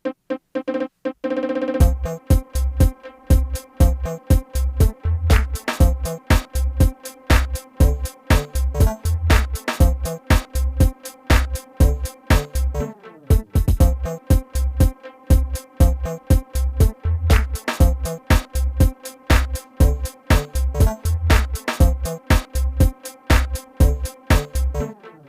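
An electronic beat at 120 BPM built from one-second samples. Punchy kick and percussive hits loop in a steady, driving pattern with no pauses and no voices.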